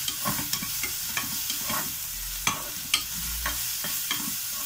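Ginger, garlic and turmeric fry in a pan for mushroom biryani as a spoon stirs them, with a steady sizzle and repeated scraping taps close by and no voices.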